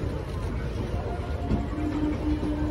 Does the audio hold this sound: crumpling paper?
no